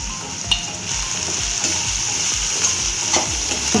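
Onions, tomatoes and green chillies frying in a pan for Nellore-style prawn fry, a steady close sizzle with quick stirring scrapes and ticks, no voices.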